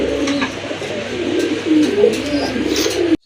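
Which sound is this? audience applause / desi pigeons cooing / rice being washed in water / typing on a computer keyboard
desi pigeons cooing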